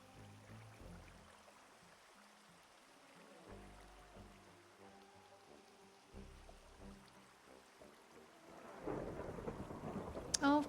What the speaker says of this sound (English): Oh, of course it's gonna be a thunderstorm.